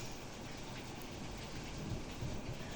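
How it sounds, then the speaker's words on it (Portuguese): Heavy rain pouring steadily during a thunderstorm, a dense continuous hiss of drops, fairly faint and with no voices. "Nossa, tá chovendo forte aqui."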